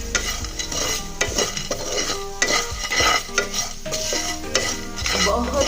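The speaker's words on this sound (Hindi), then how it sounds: "और इसको हम फ्राई करेंगे ताकि सब मिक्स हो जाए।" Pumpkin seeds with a couple of drops of honey are stirred and fried in a pan, giving a steady sizzle broken by scraping spoon strokes and light clanks against the metal.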